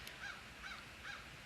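Crows cawing, three evenly spaced harsh calls at a distance, faint against a low background noise with no talking.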